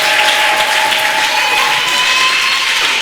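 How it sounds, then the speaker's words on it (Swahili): A church congregation bursts into steady, dense applause mixed with high, wavering ululation. The sound stays loud and continuous from start to finish. "Makofi na vigelegele."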